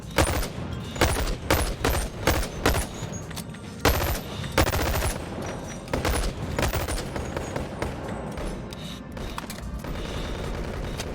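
A heavy gun in the VR game Boneworks fires in rapid bursts, a run of loud close booming shots with short pauses, then sustained clattering fire toward the end.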